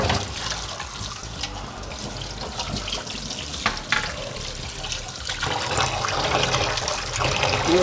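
Fish rinsed by hand in water for a Bihari fish curry, with steady splashing, sloshing and trickling close by, loud and continuous with brief clatters, and no talking.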